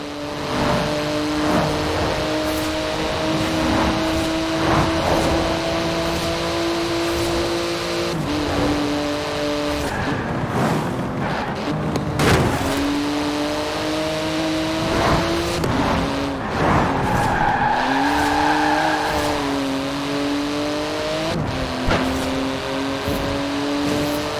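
A race car in Forza Horizon 4 revs hard and steadily through repeated gear shifts, engine tone rising and dropping, with brief tyre squeals near the middle and a continuous loud drone throughout.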